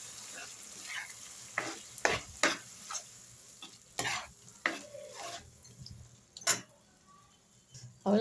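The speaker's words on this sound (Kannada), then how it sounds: "ಚೆನ್ನಾಗಿ ಮಿಕ್ಸ್ ಮಾಡ್ಕೊಳ್ಳೋಣ." Beetroot and boiled chana dal curry, with its cooking water, stirred in a pan: a series of sharp, close spoon scrapes and clatters at an uneven rhythm over a faint sizzle, with no talking.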